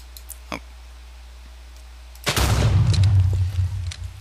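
An M320 grenade launcher in a GunCus video game mod fires with a small pop, then after a short pause the grenade detonates in a loud, deep blast that rumbles on for over a second before fading.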